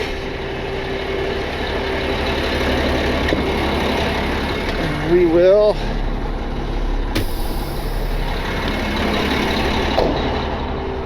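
A truck engine idles with a steady low diesel rumble throughout, joined midway by a brief rising whine, while someone says a few words near the start.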